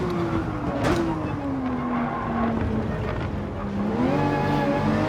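Race car at full throttle around Monza in Gran Turismo 7, a loud close engine drone shifting pitch through the corner, with a brief tire squeal and continued revving.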